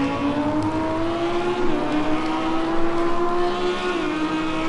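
Onboard a Ginetta GT4 race car at Spa, the engine drones steadily and loud throughout, a strong tonal note rising and dipping slightly as the car pulls through the opening corner toward Eau Rouge.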